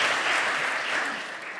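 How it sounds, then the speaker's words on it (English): An audience gives a round of applause for panel speakers at a healthcare forum, brisk steady clapping that fades slightly toward the end, with no speech over it. "I think they all deserve a round of applause for sticking around and putting up with all of that went before"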